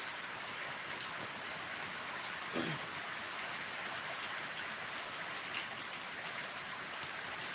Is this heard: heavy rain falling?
yes